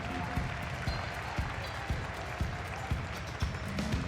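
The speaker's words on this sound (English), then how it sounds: "So give them a round of applause now as they leave the arena." Audience applause in the arena at the Crufts 2013 dog show as a dog activity display team leaves, faint and distant, with a steady pulse of claps over a wash of crowd noise.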